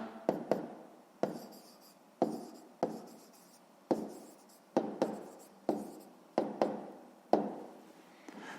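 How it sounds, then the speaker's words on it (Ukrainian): A pen writes an answer on paper, with a run of short, scratchy strokes and taps at irregular intervals, close and quiet, with no voices. "записуємо відповідь"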